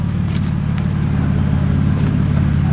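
A loud, unmuffled BMW E90 engine with the silencer removed and a single-exit exhaust idles with a deep, throbbing rumble, steady and close, with no voices.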